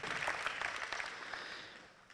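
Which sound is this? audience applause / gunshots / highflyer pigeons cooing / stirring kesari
audience applause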